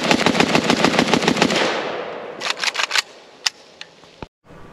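A PAC Pioneer AKM sporter rifle firing a magazine: a rapid string of loud, close shots, a pause, a short burst of a few more, then several isolated shots with silence between.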